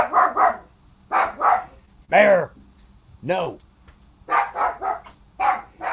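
A dog barks in short bursts near a home where a delivery truck passes, with a few sharper yelps between them and a person speaking briefly over the barking.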